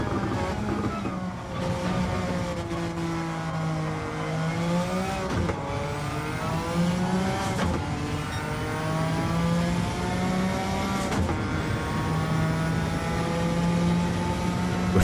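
A Suzuki Escudo race car in Gran Turismo 7 screams along at high speed, its engine holding a loud, steady high-pitched drone with brief dips and climbs as it shifts gears.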